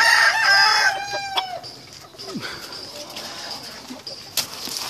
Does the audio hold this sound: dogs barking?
no